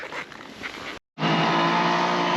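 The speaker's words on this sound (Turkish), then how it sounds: "Arkayı kaydırmalı fren yapıyoruz." Off-road car braking hard with its rear end sliding, a loud close engine roar and tyre scrub that cuts briefly to silence, then resumes as a steady harsh skid.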